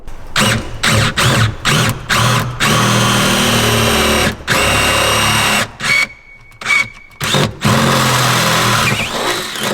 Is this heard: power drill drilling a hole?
yes